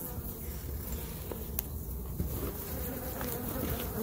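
Honey bees buzz steadily inside a large hive, a dense, continuous drone close up with no voices.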